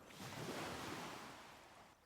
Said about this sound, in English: Waves continue their endless rhythm.